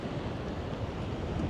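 Steady gusting wind buffets the microphone on a mountain trek through a river valley in Ladakh, a dense rushing roar with no voices.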